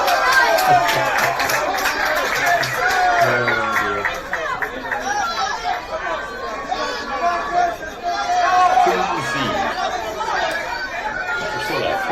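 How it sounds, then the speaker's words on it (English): A loud, busy crowd at a women's over-40 international hockey final, Singapore v Hong Kong, chatters and murmurs throughout, with scattered shouts rising above the steady hubbub of many voices. "you can hear the crowd on the crowd"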